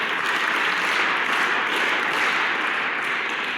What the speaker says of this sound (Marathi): भरपूर टाळ्या वाजवा